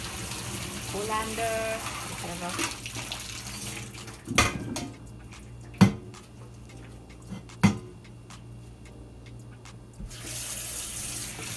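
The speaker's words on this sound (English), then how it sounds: "Just pour it off in the colander" Boiled saltfish water is poured off into a colander in a kitchen sink, a steady gushing splash with a few sharp knocks partway through, while a person speaks briefly.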